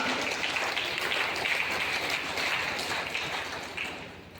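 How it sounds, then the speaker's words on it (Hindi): A crowd at a wedding hall event claps together for a product, a dense, fairly faint wash of applause that slowly tapers off. "डिएक्शन के प्रोडक्ट के लिए जोरदार ताली बजाओ।"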